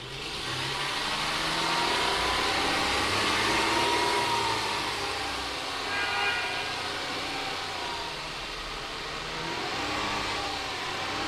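A 2012 Hyundai Santa Fe engine running at 2000 RPM, a steady broadband hum and whir at a constant pitch, fairly loud and unbroken.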